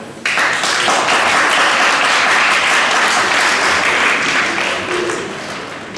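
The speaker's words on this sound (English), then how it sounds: "Massive round of applause" An audience of summer school students and families breaks into loud, sustained applause at a school celebration, dense clapping that holds steady and then fades slightly toward the end.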